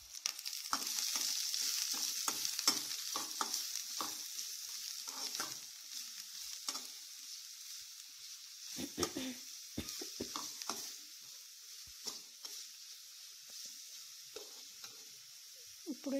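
Finely chopped green chillies fry in a pan and are stirred, a soft continuous sizzle broken by frequent scraping and clinking spoon strokes, fairly close and without talk.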